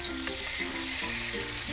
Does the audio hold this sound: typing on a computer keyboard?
no